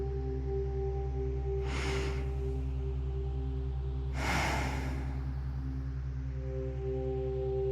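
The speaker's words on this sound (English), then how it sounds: "take a deep breath in and release" Two slow, airy breaths rise and fall over a steady droning hum during a guided meditation, the second one longer and fuller, soft and close with no talking.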